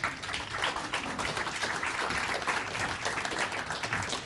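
A lecture audience at a 2011 Sydney equinox event applauds, with steady dense clapping that fills the whole stretch without voices.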